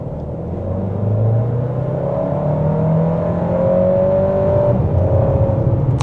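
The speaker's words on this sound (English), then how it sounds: "Let's see if we can slow down and do a small boost from 20" An MG HS 1.5T turbo SUV with a dual-clutch gearbox accelerates from about 20, its engine note rising smoothly through a couple of gear changes, loud and steady from inside the cabin.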